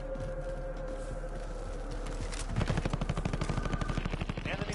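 Rapid bursts of automatic gunfire in a combat video game, a steady rattle of shots building in loudness halfway through and continuing in a fast, even rhythm over constant background noise.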